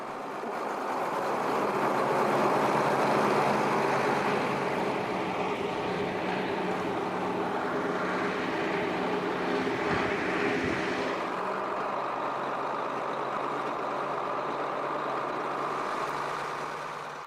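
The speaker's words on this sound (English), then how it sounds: "allows the nearly 12-ton articulated tractor to reach top speeds of over 30 kilometers per hour" Nearly 12-ton articulated tractor driving at speed, a steady loud engine drone with broadband rumble throughout, continuous and close, with a slight dip in intensity near the end.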